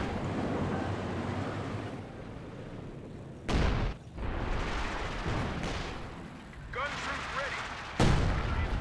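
Rocket artillery barrage from a Panzerwerfer in Company of Heroes 2: several sharp booming impacts land a few seconds apart over a steady rumble of battle, with someone commentating throughout.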